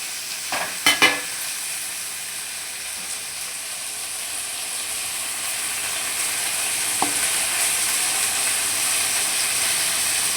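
Tomatoes sauteing in a pot for mutton biryani, giving a steady soft sizzle and hiss throughout with a couple of brief clinks of stirring near the start.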